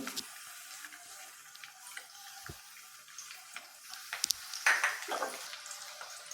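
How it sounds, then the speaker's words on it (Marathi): Ginger and garlic fry in a little reused deep-frying oil: a soft, quiet sizzle with light crackles and ticks, rising into a brief, louder burst of stirring and spitting near the end. "तळाला घेतलेलं तेच तेल घेतलेलं आहे जरा कमी करून त्याच्यामध्ये आलं आणि लसूण घालून घेणार आहे"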